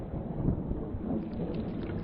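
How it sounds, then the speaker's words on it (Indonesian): Thunderstorm in an animated show, with steady rain and low rolling rumbles of thunder, a continuous dense wash of sound with no talk. "Sepertinya badai ini akan menjadi badai besar."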